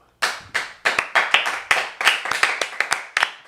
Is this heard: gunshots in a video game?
no